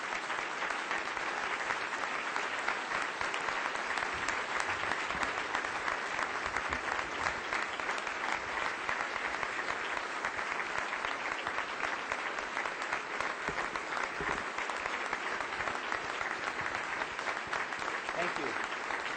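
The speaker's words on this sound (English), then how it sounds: "give us the chance to stand up and thank these officers with applause" A luncheon audience at a Rotary event gives long, steady applause for police officers, dense clapping filling the room evenly from start to finish.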